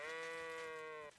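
One sustained sheep bleat, clear and fairly even, held for about a second before it breaks off, heard alone at moderate loudness.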